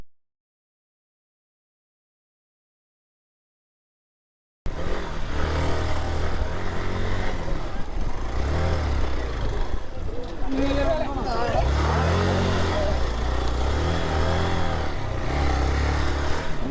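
An off-road motorbike heading up a hill road toward the Gudisa check post, its engine droning and revving steadily up close after a silent start, with people talking over it.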